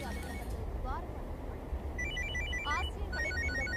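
An old telephone in a Tamil short film rings with repeated electronic trilling bursts over a low room hum, while people talk alongside.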